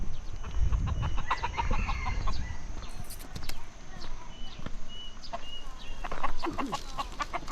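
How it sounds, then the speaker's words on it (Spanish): Fighting roosters at a Lahu hill village in Thailand cluck and squawk in short, scattered bursts close by, with rustling and soft shuffling between calls and a person's voice now and then. "Mira, estos son gallos de pelea."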